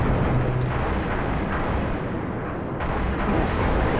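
Dense booming blasts and explosions from combat in the Halo Reach video game, where a grunt carries a fuel rod gun. The bursts are loud and continuous, overlapping one another across the whole stretch.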